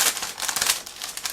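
Clear plastic bag from an ICM 1/35 scale Battle of Berlin model kit crinkling up close while being unboxed, a dense, continuous rustle with brief crackly bursts and no talking.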